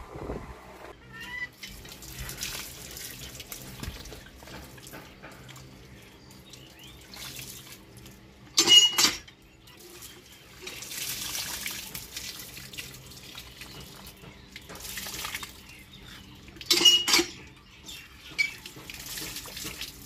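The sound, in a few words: washing mangoes under running tap water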